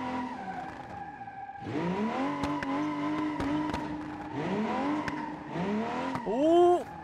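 A BMW M2 Competition drift car lapping a kart track in BeamNG, with the engine revving up and down in repeated surges, tires squealing through slides, sharp knocks between pulls, and a high rising squeal at the end.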